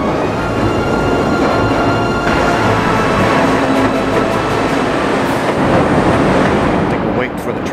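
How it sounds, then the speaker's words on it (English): A Chicago subway train roars past in a steady, loud rumble with a rattling rush of wheels that swells slightly toward the end. "I think I just saw Spider-Man zip by on the subway."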